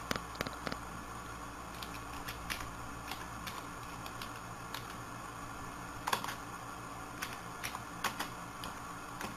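Typing a command on a computer keyboard: faint, scattered key clicks and taps over a steady background hum, coming in small irregular clusters.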